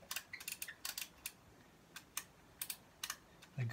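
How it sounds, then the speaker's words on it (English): Vintage toy guns from a set of Star Wars and Transformers finds give sharp, quiet plastic clicks close up, arriving in quick irregular clusters with short pauses between them. "The guns still click"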